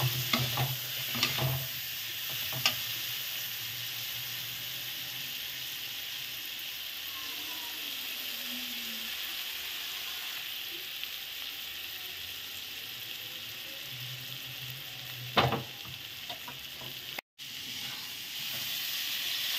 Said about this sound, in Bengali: এইবার এই কপি আর আলুটা দিয়ে দিলাম, দিয়ে একটু নেড়ে চেড়ে জল ঢেলে দেবো